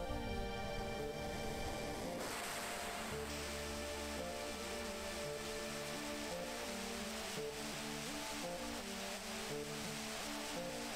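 A steady, rushing waterfall roars continuously in the video game Final Fantasy VII, layered under a looping background music track with no voices.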